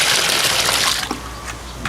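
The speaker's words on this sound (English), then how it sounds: "Add in the water." Water gushes steadily into a dry concrete mix reinforced with fiberglass, a loud pouring rush that thins out partway through and leaves a few splashes and knocks.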